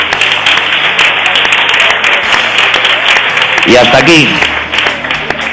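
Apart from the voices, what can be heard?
audience applause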